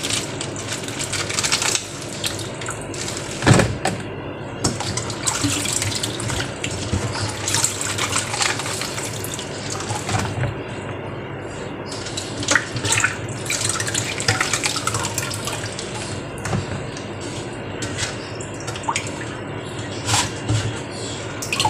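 Water runs from a kitchen tap while something is rinsed for hot pepper paste kimchi, with uneven splashing, gushing and intermittent clattering close by.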